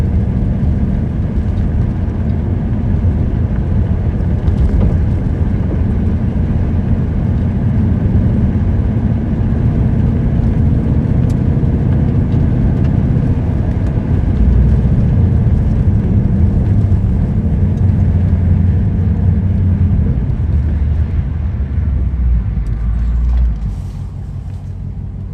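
A Ford Mustang Dark Horse makes a quarter-mile drag pass, its engine a loud, steady roar that holds for more than twenty seconds before easing off near the end.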